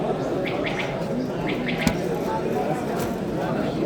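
Pigeons coo in a loft that holds white pigeons: short, repeated soft coos and a few chirps over a steady, noisy background, with indistinct voices nearby.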